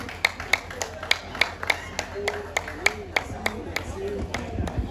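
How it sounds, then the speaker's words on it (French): An audience at a school centenary celebration applauds Brother Simon with a steady, rhythmic clap of sharp individual beats, like a slow cadenced ovation, while faint voices murmur underneath. "On applaudit le frère Simon"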